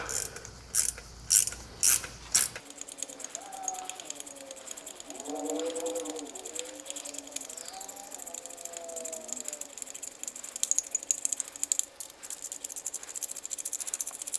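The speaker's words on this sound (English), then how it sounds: "what the thread chaser does is it simply goes in and cleans out the junk." A thread chaser works through 10mm by 1.25 bolt threads during a clutch job, giving a dense, close metallic ratcheting after a few sharp clicks at the start, with faint squeaky tones rising and falling along the way.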